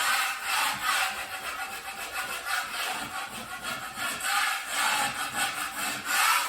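Filler coat on a wall being scraped and sanded, a continuous rasping scrape in repeated strokes, close and fairly loud with no talk.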